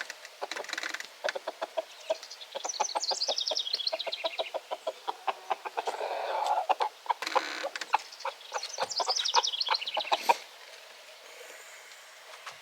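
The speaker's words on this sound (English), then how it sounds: "Go on, chase those hens." Hens cluck nearby in bursts of short rhythmic clucks, rising into higher drawn-out squawks twice, with quiet pauses between.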